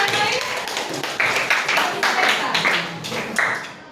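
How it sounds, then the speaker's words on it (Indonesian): Classmates clap for a student named Errol in a classroom, a short burst of scattered hand claps mixed with chatter and voices, moderately loud and fairly close. "tepuk tangan untuk Errol"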